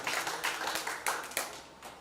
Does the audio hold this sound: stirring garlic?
no